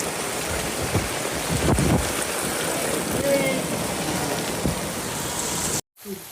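Heavy rain pours on a street in Rayer Bazar, Dhaka, a dense steady roar with splashes and a low rumble, close and loud, cutting off abruptly near the end.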